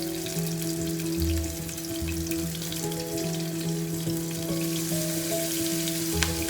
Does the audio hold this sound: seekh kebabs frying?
yes